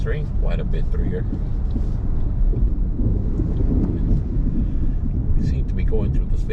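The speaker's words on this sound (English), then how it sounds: "We seem to be going through the thick of storm." A Miami-Dade bus rides through a heavy thunderstorm in Kendale Lakes, with a constant low roar of rain, wind and road noise, a rumble of thunder underneath, and brief chirps and voices on top.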